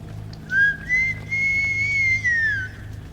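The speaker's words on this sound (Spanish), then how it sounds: "se escuchó un silbido" A single long, clear whistled tone coming from a planted field, rising slightly and holding steady for a couple of seconds before fading, with faint background hum.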